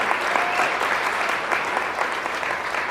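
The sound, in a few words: audience applause for the music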